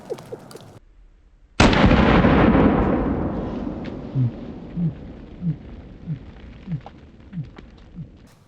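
A single very loud shot from a Cyclops Thumper 50AE pocket pistol fired outdoors at a watermelon from five yards. A sharp crack breaks the quiet and rolls off in a long echoing decay, followed by birds chirping.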